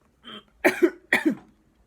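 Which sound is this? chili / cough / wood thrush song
cough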